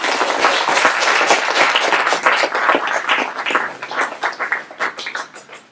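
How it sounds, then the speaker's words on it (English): An audience gives a dense round of applause at a San Francisco Human Rights Commission panel, steady and loud before thinning into scattered claps at the end. "Let's have a big round of applause."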